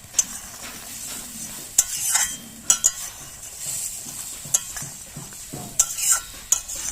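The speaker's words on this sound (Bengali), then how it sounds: "এবার একটু গরম মশলা দিয়ে লাবিয়ে নেব।" A spoon stirs egg malai curry in a pan after garam masala goes in, with repeated scraping strokes and clinks over a soft, steady sizzle, close and fairly loud.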